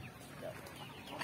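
Native chickens on a small Philippine farm cluck in a brief, busy burst amid faint background farmyard noise.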